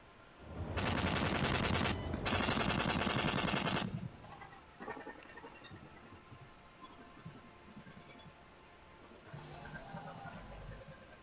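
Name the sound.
gunfire in Star Citizen video game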